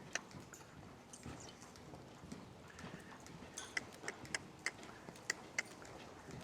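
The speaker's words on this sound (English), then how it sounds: "That's a nice relaxed canter" Steady three-beat hoofbeats of a horse cantering relaxed in a pen or arena, rhythmic thuds with sharper clip-clop accents toward the end, fairly close, with no talk.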